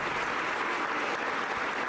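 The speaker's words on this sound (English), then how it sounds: "Give him a big round of applause, everybody." An audience at a live stream show claps and cheers in a dense, continuous burst of applause at moderate level, with no voices above it.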